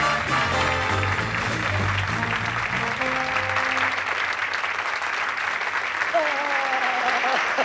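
Studio audience applauding loudly and steadily for a guest's entrance on a television talk show, with music playing underneath throughout.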